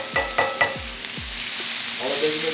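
Onions and peppers frying with beer in a hot pan, a steady sizzle punctuated by a few sharp clanks of a utensil against the pan near the start.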